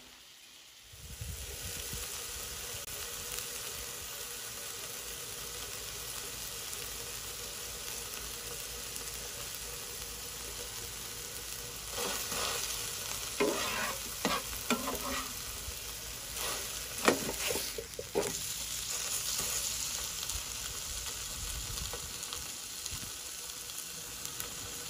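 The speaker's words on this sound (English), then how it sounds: "I still gonna use the pan where I fry my hamburger and sausage" Hamburger and sausage frying in a pan at an outdoor cookout, a steady loud sizzle running throughout, with bursts of crackling and spatula scraping in the second half.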